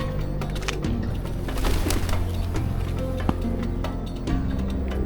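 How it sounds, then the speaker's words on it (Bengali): Pigeons coo in low, repeated throaty calls near the entrance area of the Hira cave on Jabal al-Noor, close by over a busy outdoor background with occasional sharper chirps. "কবুতরগুলো ডাকতেছে"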